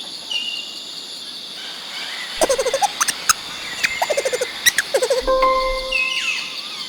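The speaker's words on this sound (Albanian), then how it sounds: "Çfarë tingulli bën lemuri?" A series of quick, chattering animal calls, clicks and squeaks in short bursts, over a background of birdsong and insect noise.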